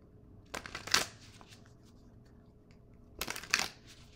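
Tarot cards being shuffled by hand, two short riffling bursts a few seconds apart, close and fairly quiet against a faint background.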